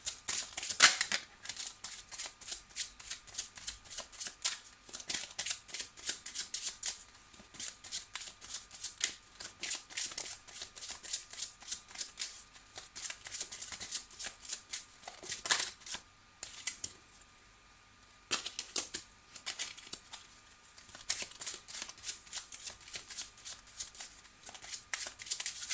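Tarot cards shuffled for a Petit Lenormand reading, with steady papery riffles and soft slaps repeating close up through most of the stretch, pausing briefly twice, with no talking over them.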